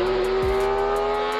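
BMW 1 Series engine screaming toward 12,000 RPM, its intake wailing in a loud, steady high-pitched drone, with one quick downward sweep of pitch midway.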